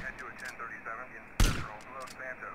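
In GTA San Andreas, a single sharp gunshot cracks out loudly in the middle, heard over quieter game sounds and faint radio-like voices.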